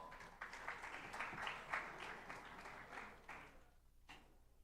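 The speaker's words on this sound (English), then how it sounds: "A round of applause." A book festival crowd gives a round of applause, fairly quiet clapping from many hands that swells briefly and then thins into scattered claps.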